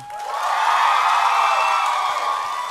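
A live audience erupts in sustained cheering, whoops and applause for a contestant named Eko at a Filipino Miss Q and A style pageant, a dense, loud crowd roar swelling quickly and holding steady throughout without any speech.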